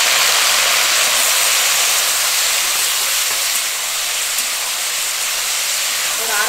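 Garlic and ginger sauté in a pan for a no-onion tomato chutney, giving off a steady, even sizzling hiss that stays constant throughout.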